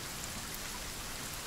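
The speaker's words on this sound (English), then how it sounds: "Yeah, I know. The rain." Steady rain falls in the video game Sons of the Forest, a dense, even hiss that holds at a constant level throughout, with no voices.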